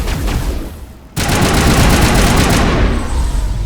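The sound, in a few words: rifle gunfire in video game Mass Effect: Legendary Edition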